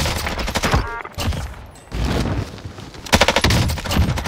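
Rapid automatic gunfire rattles in Call of Duty Warzone, loud dense bursts of shots with a short lull in the middle, then heavy firing resumes.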